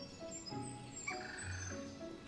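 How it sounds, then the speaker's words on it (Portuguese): Birds chirp and call in The Sims 4, with a layered mix of bright tweets and lower fowl-like calls that repeat steadily at moderate volume throughout. "Olha o somzinho dos passarinhos"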